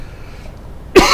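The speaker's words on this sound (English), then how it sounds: "I got a cough here." A single sharp cough from a man indoors, loud and close, bursting abruptly after a stretch of near-silence.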